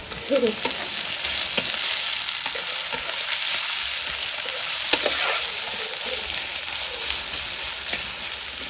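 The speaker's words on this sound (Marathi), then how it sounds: "आता कांदा मस्त परतून घ्यायचा" Onions crackle and sizzle steadily while being fried for egg bhurji, a continuous close frying hiss with occasional scrapes of stirring and no talk.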